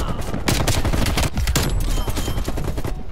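A deployed sentry turret firing in Call of Duty Cold War on the Nuketown 84 map, loud continuous rapid automatic gunfire with sharp bursts, up close.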